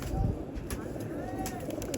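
Pigeons coo softly amid a constant hum of background noise, one low murmuring call near the start and faint bird sounds after it, with no one talking.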